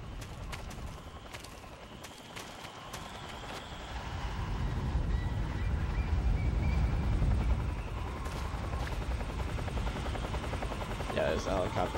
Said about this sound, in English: Yeah, there's a helicopter.